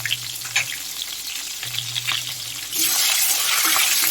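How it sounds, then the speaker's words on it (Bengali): Raw banana pieces fry in oil for Bengali sole fish curry, a soft close sizzle with a low background hum that swells into a loud, bright, continuous hiss partway through. "এটা ফ্রাই হচ্ছে।"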